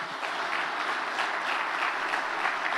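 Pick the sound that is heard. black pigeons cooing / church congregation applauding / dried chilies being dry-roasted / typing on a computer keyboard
church congregation applauding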